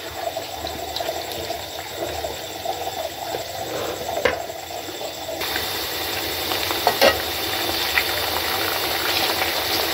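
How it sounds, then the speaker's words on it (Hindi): Bitter gourd pieces fry in oil with a steady, close sizzle. Occasional utensil clatters and scrapes sound around the middle and later on, and the sizzle grows somewhat brighter partway through. "बस इनको फ्राई करना है आपने।"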